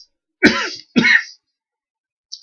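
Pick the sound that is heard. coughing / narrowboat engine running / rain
coughing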